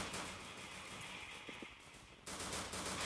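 Rapid gunfire in an online shooter game, a dense burst of shots that pauses briefly and resumes, loud and close with no talk.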